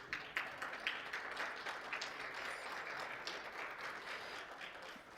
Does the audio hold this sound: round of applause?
yes